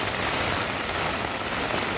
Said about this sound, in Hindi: यहाँ पर बारिश से बचने के लिए आए थे, बट हवा इतना जोर हुआ कि दुकान को अभी बचाना पड़ रहा है